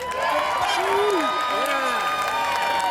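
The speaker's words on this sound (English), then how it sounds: "Can we get a round of applause for Senator Panaccio?" Crowd at a Memorial Day rally in Point Pleasant Beach applauds and cheers for a senator, a dense continuous wash of clapping with voices calling out over it.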